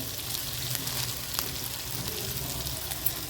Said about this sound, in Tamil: இப்போ வந்து நம்ம இந்த பச்சை மிளகாய் இதில் போட்டு வதக்கிடலாம்